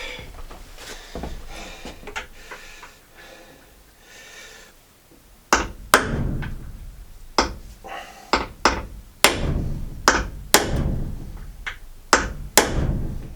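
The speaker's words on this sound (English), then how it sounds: "you use that counter punch and you knock them in" A series of sharp metallic taps, spaced irregularly, begins about halfway through and strikes roughly a dozen times after a stretch of quieter background noise, as a hammer and counter punch knock nails into a deck.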